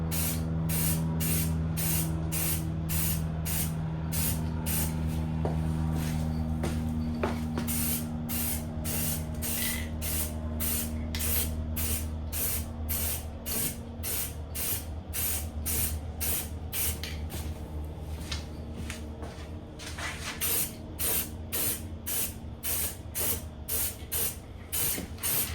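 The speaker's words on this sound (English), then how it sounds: "All right, so I got the first coat on the first wheel done." Aerosol spray paint applied in light coats to a BMW F82 M4 wheel, a long series of close, rhythmic hissing bursts with short pauses between passes over a steady background hum.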